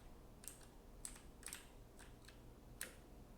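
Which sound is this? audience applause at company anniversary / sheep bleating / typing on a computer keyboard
typing on a computer keyboard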